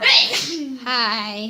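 A single sharp sneeze bursts out indoors, quick and loud, followed by a short voiced greeting.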